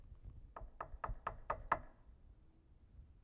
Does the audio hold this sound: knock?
yes